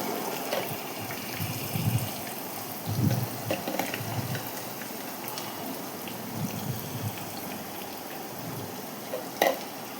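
Thinly sliced onions frying in a pan for a meal maker masala curry, with a continuous crackling sizzle and several louder stirring scrapes spread through the clip.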